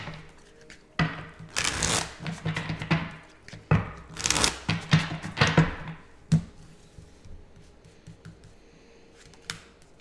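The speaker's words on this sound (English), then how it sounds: "I'm shuffling." A tarot deck is shuffled close by in several bursts of rapid riffling and flicking cards, with quieter handling taps and card slaps between them, and no talking.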